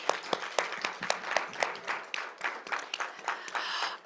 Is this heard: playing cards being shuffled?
no